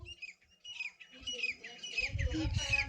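A bird chirps and squawks in short bursts nearby in a farm field, growing busier toward the end, with some low rumbling noise underneath.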